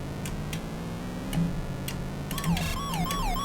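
A rising and falling electronic ambulance siren in the Atari 2600 racing game Turbo enters late over steady ticking engine-like game tones and short bleeps.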